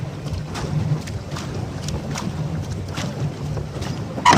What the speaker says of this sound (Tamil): ஸோ இப்போ நாங்கள் போட்டில் இருக்கிறோம்.